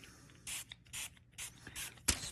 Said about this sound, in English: Spray the back of the paper and start rubbing.